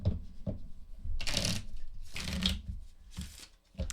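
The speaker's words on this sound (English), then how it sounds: "I've really enjoyed riffle shuffling Magic cards on the opportunities I've gotten to do" Magic: The Gathering cards, unsleeved, are riffle shuffled by hand in several quick, crisp bursts of fluttering clicks, each burst ending in a soft bridge, close and clear with no talk.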